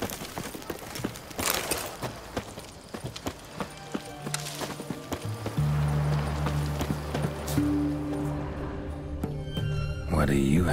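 Horse hooves clip-clop in a quick trot in The Witcher 3: Wild Hunt – Hearts of Stone, under game music and ambient noise, with voices talking intermittently and a short whinny near the end.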